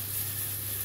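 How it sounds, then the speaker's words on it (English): Olive oil sizzles and crackles steadily in a hot pot, a soft continuous hiss with a low hum underneath. "Get that sizzling. When it starts to sizzle, then we got some heat going."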